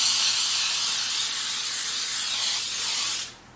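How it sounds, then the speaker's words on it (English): Pam baking spray hisses from the can onto a pan in one continuous, close, steady burst lasting about three seconds before cutting off sharply. "I'm just going to spray this with some of the Pam baking spray"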